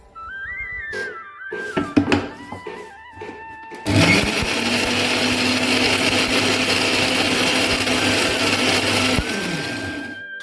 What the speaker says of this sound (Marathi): हे आता आपले छानपैकी पोहे मिक्सरला बारीक करून झालेले आहेत।